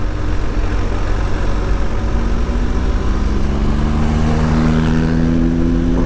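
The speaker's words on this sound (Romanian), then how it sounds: "Cum se aude Acrapoviciu și domnul Daniel." Motorcycle fitted with an Akrapovic exhaust on a mountain road, a loud, close engine drone with a deep rumble whose pitch climbs steadily as it accelerates.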